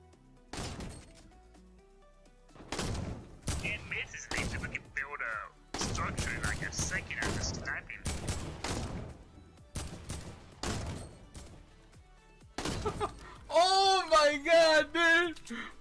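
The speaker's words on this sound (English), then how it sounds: "3 headshots in a row from 233 meters away" Gunshots ring out in an online shooter game as a series of sharp, loud cracks spaced across the stretch, some in quick pairs, followed by excited shouting.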